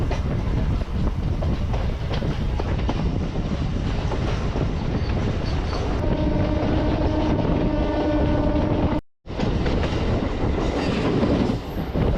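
A MEMU train rumbles steadily along the tracks at Madhura Nagar railway station, loud and close, with rhythmic wheel clatter and a metallic squealing hum rising partway through.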